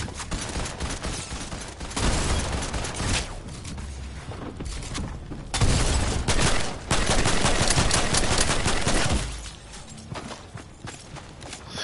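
Gunfire in Fortnite, with rapid and sustained volleys of automatic rifle fire that come in loud bursts and trail off, against the game's background noise.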